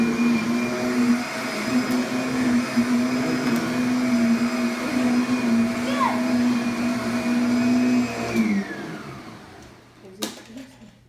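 A Kirby vacuum cleaner runs with a steady, loud motor whine and hum, then shuts off and winds down near the end, leaving brief handling noises.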